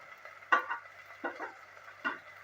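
Vegetables including capsicum, brinjal pieces and fenugreek leaves are stirred in a frying pan for a mixed veg kichidi, with a few soft scraping stirs over a faint background sizzle.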